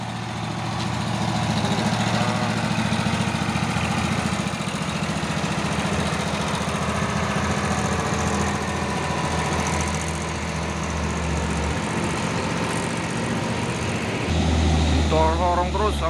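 A Hino 500 dump truck runs with a loud, continuous low engine rumble throughout, while people talk over it.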